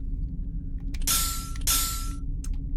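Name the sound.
clink bell sound in the video game Myst puzzle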